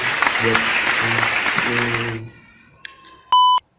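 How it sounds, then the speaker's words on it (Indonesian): Short stretch of dense clapping with musical notes underneath, fading abruptly after two seconds into near silence, followed by a short tone and a loud electronic beep. "Tepuk tangan dong"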